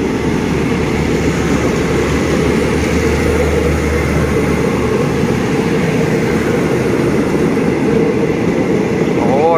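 Southern line passenger train number 5204 rolls past at close range, a loud continuous rumble and roar of wheels and engine holding steady throughout, with a brief rising squeal near the end.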